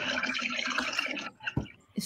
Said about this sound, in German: Schon ein bisschen ekliges Wassergeräusch